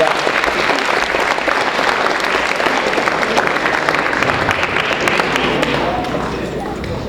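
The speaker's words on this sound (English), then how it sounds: "Let's give a round of applause to Lauren and Amanda for that" Loud, sustained applause from the audience at a hypnosis show for volunteers, a thick continuous patter of clapping that holds steady for about seven seconds, easing slightly near the end.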